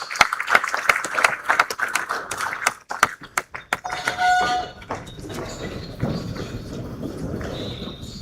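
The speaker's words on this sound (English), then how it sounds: "please join me in welcoming the Chief of Air Staff, Air Marshal Sunday Kelvin Aneke, with a resounding round of applause" An audience at a security summit gives a round of applause, dense clapping for about four seconds that fades into scattered claps and room murmur.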